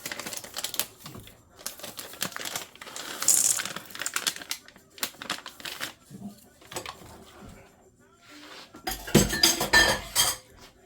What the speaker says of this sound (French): À ce niveau, on va verser nos pépites de chocolat